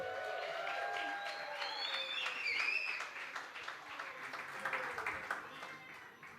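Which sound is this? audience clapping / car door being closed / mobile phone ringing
audience clapping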